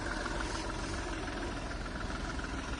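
A 2015 Seat Ibiza with a pearl-white finish idles steadily, giving a close, continuous engine hum with a low rumble and no variation in pitch.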